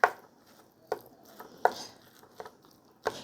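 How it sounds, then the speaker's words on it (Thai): Hang Lay curry made with free-range chicken gets mixed into rice by hand or spoon, giving about five soft, separate taps and squelches at a slow, uneven pace, faint and close, with no talking. "แกงฮังเลไก่บ้าน เอาไปคลุกเลยค่ะคลุกคราว"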